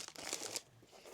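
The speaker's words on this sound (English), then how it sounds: "We have got plastic bags because I'm going to put my watch and my nutrition in a plastic bag" A plastic bag crinkled and handled up close while packing for a triathlon race, giving a short burst of dry rustling and crackling that fades toward the end.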